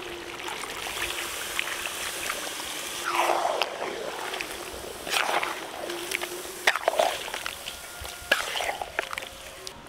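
Water from ground palak spinach is poured into a pot of cooking mutton, giving a steady trickling, sloshing pour with a few stronger splashing surges near the pan.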